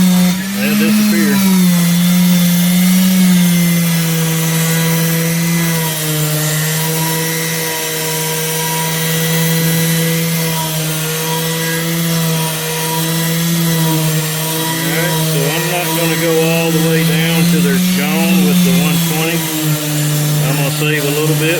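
A power sander with 120-grit paper grinds curb rash off a car wheel, giving a continuous high whine with a steady droning tone that wavers slightly as pressure changes. It runs loud and unbroken for about twenty seconds.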